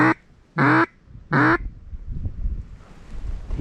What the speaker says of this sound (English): I think a wood duck just came.